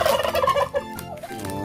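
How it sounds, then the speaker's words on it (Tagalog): A turkey gobbles loudly and close by on a rural farm in a rapid warbling burst, followed by a few shorter calls, with no talking. "Yung pabo natin."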